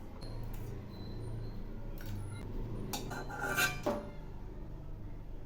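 Fried dry chillies being lifted off a pan of mustard oil, with faint utensil scrapes and a few metallic clinks building to a brief louder clatter.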